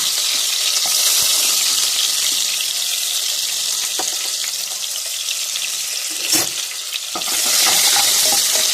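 Loud, continuous hiss of onions frying in hot oil for a vegetable biryani, a dense close sizzle with occasional stirring clatter and a brief dip before it surges again.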